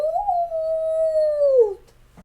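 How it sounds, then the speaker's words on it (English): A single long, wavering howl for a small ghost, loud and close, sliding gently down in pitch over about two seconds before cutting off. "He Howled. then he Yowled."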